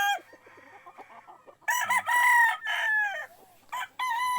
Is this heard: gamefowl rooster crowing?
yes